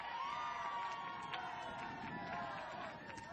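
Crowd at a high school baseball championship game, a modest, distant murmur of cheering and shouting voices with a faint whistle-like tone running through it, steady across the span.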